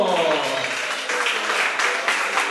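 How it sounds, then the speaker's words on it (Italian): Applause from a television show audience runs as a full, continuous wash of clapping, with a host's voice carrying over it throughout. "Un applauso a Domenico Mangano,"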